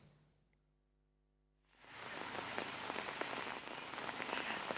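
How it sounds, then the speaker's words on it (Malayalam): Heavy rain at Manaveeyam in Kerala: after a quiet opening it bursts into a loud, dense, continuous hiss of drops pounding the surface nearby, with no talk. "നല്ല മഴ പെയ്യുന്നുണ്ടല്ലോ"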